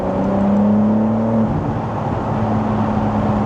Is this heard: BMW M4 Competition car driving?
yes